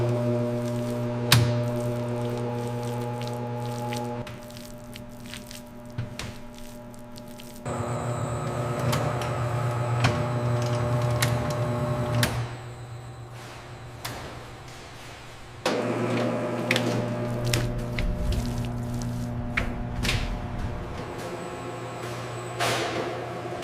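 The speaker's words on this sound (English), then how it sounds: "The mixer gently combines ingredients, ensuring every part of the future sausage link is perfectly seasoned." Industrial mixer in a modern sausage factory blending seasoned sausage meat, a steady low mechanical drone with hum and clanking, shifting in intensity in sections and punctuated by sharp knocks, with no voices.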